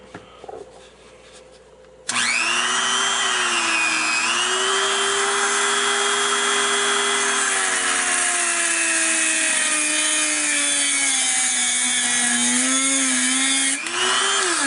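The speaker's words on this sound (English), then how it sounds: "For demonstration, I'm going to just cut this screw in half." A high-speed rotary cutting tool slicing a metal screw held in pliers: after a short lead-in, a loud, steady, shrill whine with shifting pitch as the blade bites in, running close and continuous to the end.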